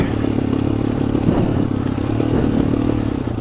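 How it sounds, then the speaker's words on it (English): A motorcycle engine runs close by in first gear at low, steady revs, its throaty rumble mixed with gravel clatter and scraping underneath. "So now I'm keeping it in first gear and letting the engine do a lot of the work."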